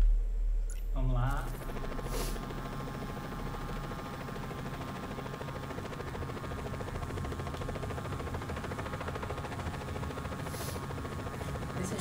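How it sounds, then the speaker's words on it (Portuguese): A helicopter in the video game Just Cause 4 gives off a steady, loud, droning engine and rotor roar that runs unbroken for the whole stretch after a brief quieter opening. "Esse acho que é o helicóptero mais padrão que tem no jogo."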